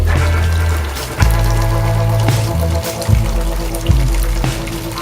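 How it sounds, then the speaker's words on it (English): Hot liquor water draining from a homebrewing vessel for sparging, a loud continuous splashing pour with a low gurgling rumble and a few sharp clunks as the flow shifts. "I'm just draining off the 25 litres of hot liquor, which I'll use to sparge in the mash tun"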